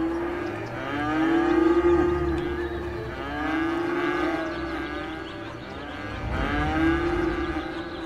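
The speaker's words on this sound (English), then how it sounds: "I think I hear cows." Cattle mooing in the game Cities: Skylines, several long low moos drawn out one after another over a steady background hum.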